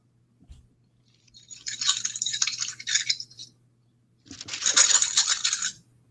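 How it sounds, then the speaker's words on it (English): Something crinkles right up against the microphone, in two close, bright rustling bursts of a couple of seconds each, separated by a short silence over a faint low hum. "I know you like that crinkling sound to the mic."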